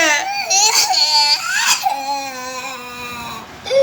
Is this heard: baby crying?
yes